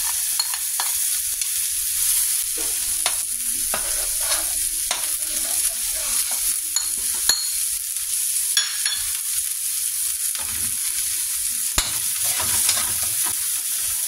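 Garlic browned in a pan sizzles steadily as onion is added for sinigang na hipon, a constant hiss broken by scattered scraping and stirring clicks close up.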